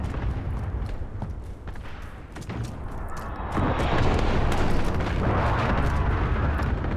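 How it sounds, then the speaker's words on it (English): Precision airstrike explosions in Call of Duty: Modern Warfare, a sustained rumbling barrage of blasts that swells louder midway and stays heavy and dense to the end. "Precision airstrike on the way."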